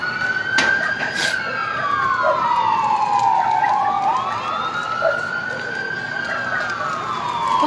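A fire truck siren wails at a building fire in Katuparan, Tondo, Manila, its rising and falling tone sweeping loudly and close through the whole stretch, with a few sharp knocks and a general roar of commotion around it.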